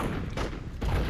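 Rapid weapon fire in the Blitz Brigade shooter game, a dense continuous burst of close, loud shots running through the whole moment with a brief gap near the end.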